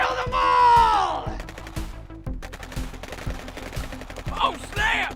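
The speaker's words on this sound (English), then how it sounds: "Open fire! Kill them all!" Action-movie gunfire cracks out as a steady string of loud, evenly spaced shots, while voices shout over the start and end of the volley.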